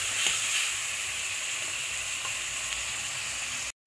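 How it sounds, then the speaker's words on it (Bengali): Garlic fries in hot oil with a steady, close hissing sizzle and a few faint pops, then cuts off abruptly at the end. "রসুনটাকে এরকম তেলের মধ্যে একটু ভেজে নিই"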